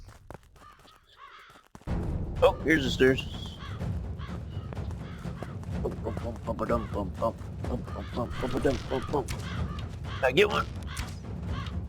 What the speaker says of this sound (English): I hear them crows. Them crows are crowing.